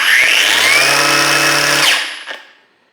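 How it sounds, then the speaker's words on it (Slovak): A Parkside Performance PWSAP 20-Li G7 cordless angle grinder whines loudly at full speed from the start, then its brake stops it sharply, the pitch falling away into silence within a second, with no speech. "brúska má veľmi rýchly štart do maximálnych otáčok a taktiež má pomerne rýchlu brzdu"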